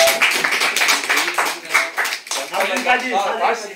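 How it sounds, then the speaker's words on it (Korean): An indoor crowd claps at an award ceremony, dense close applause filling the whole moment, with voices talking over it. "자, 박수 부탁드립니다."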